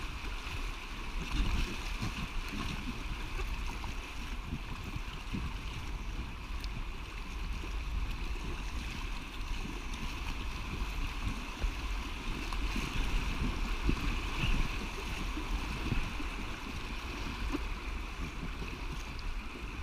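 Packraft paddled along a river, a steady low wash of moving water with soft, irregular paddle splashes throughout, moderately near and unbroken by talk.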